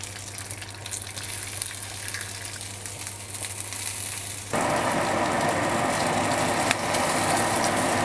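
Fish kaftas sizzle steadily in a hot pan for an Australian salmon catch-and-cook, a constant frying hiss that jumps suddenly louder partway through and stays loud, with no talking.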